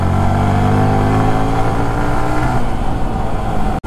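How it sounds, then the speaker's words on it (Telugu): A 155cc motorcycle engine drones loudly and steadily while riding, with a strong humming tone that shifts slightly in pitch before cutting off abruptly at the very end. "ఇది ఒక 155cc నాకు తెలిసి ఇట్లాంటి సౌండ్ దేనికి రాదేమో"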